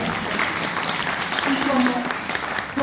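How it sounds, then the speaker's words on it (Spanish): Applause for a teacher at an informational assembly during a national strike, a short burst of crowd clapping heard under and alongside a speaking voice, fairly loud and continuous. "Un aplauso para la profe Catalina."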